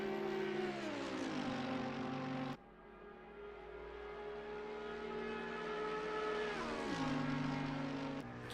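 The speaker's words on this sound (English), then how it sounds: "You can hear just the difference in the engines. It's beautiful sounding." Race car engines in a racing video game at Bathurst, a loud close engine whine that shifts up and down in pitch through gear changes, cutting abruptly to a different steadier engine note partway through.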